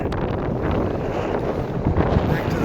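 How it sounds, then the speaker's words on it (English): Strong wind on Paintbrush Divide, a high mountain ridge in Grand Teton National Park, roars and buffets the microphone in a constant loud rush. "it's super windy up here"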